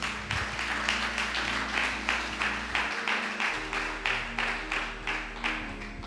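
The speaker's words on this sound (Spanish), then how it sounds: "Démosle un aplauso al Rey" Congregation clapping at a church service, rhythmic pulses of hands over a steady musical backing with sustained low tones, moderately loud throughout.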